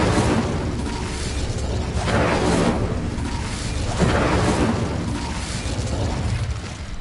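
A fire spell being cast in the wizarding video game Hogwarts Legacy, heard as a loud, sustained roaring whoosh that swells in repeated bursts of flame over a low rumbling bed.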